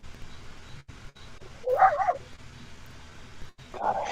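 A small lap dog gives a brief burst of yappy barks, then another short bark near the end, moderately close over a faint background.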